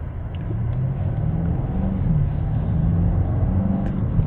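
A BMW M850i twin-turbo V8 accelerates under light throttle, a deep, steady engine rumble that builds in pitch, heard from inside the car with road noise beneath it.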